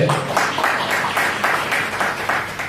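Audience applause at a leadership seminar, a crowd clapping in a loose, slightly pulsing rhythm at moderate volume, continuous for a couple of seconds without speech.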